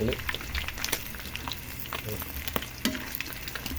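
Tilapia frying in hot oil in a pan, sizzling and crackling loudly and continuously with sharp spitting pops close up.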